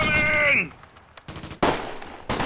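Bursts of gunfire in the WWII tactics game Close Combat: Gateway to Caen, with a loud sustained volley that cuts off sharply, then separate loud cracks and shots following at close range.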